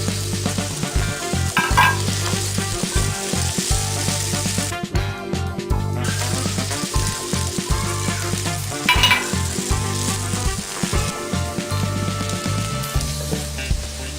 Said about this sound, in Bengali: পেঁয়াজ, রসুন, আদা এবং জিরা আমি এভাবে একটু ভেজে নিয়েছি